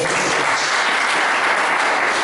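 Congregation applauding during a Friday evening church service, steady dense clapping filling the room without a break.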